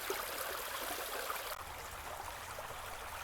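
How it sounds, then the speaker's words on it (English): A small stream rushes over rocks in a quicker stretch just above a drop, a steady, close, broadband wash of flowing water with no talking. "The water flows along and gets to this more rapid area where the water flows down and through the rocks."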